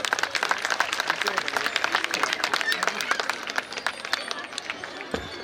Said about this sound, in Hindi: ताली बजाइए आप लोग भाई